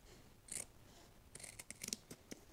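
Scissors trimming seat foam during a heated seat install in a Toyota 4Runner, a few quiet close snips and crisp cutting clicks clustered in a short run, with no talking.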